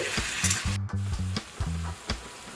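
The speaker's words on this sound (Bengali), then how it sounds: "দিয়ে দেব টমেটো সস দিয়ে একটু ভাজা ভাজা করে নিচ্ছি" Tomato sauce sizzling and spitting in a hot pan for chilli chicken, with scraping stir strokes coming in short bursts over a low background tone.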